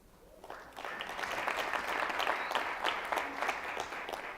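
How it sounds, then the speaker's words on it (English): A business-conference audience bursts into applause, a dense wash of clapping that swells within a second and holds for several seconds, moderately distant and without speech. "Give me a little applause."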